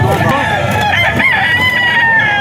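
A bulik gamefowl stag crows in a long, sustained call, loud and close, over a busy farm with other birds in the background.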